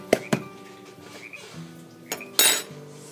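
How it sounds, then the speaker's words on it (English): A utensil stirs a teriyaki marinade for pork steaks in a bowl, giving a few sharp, close clinks against the bowl that are spaced apart with quiet gaps between them. "And give it a good mix."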